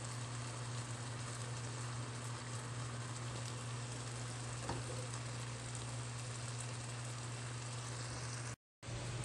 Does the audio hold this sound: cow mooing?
no